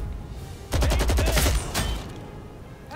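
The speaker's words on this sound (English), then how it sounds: "This guy is still shooting." A rapid burst of automatic gunfire rattles loudly and close in the World War II video game Classified: France '44, with a further shot and fading echo afterward.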